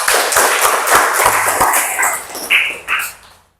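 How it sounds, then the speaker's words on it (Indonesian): A class of students in an Islamic studies lesson claps hands together. The applause is loud and mixed with a few sharp individual claps, then thins to a couple of late bursts and fades to silence. "Ya, tepuk tangan semuanya."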